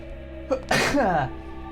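A single sharp sneeze, close and loud, bursts out with a quick inhaled lead-in over a soft game music background in Danganronpa 2.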